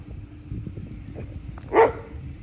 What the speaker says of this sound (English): Of course, we got the junkyard dogs.